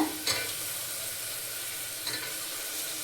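Green peas sauté in a pan with a continuous low frying hiss, broken by two brief stirring scrapes.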